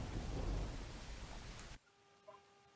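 Heavy rain pours down in a dense, loud roar during a downpour in Borsad, Anand district, then cuts off abruptly to a quieter background.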